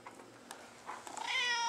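A cat gives one soft, drawn-out meow near the end, faint and close after a quiet stretch with small scattered rustles.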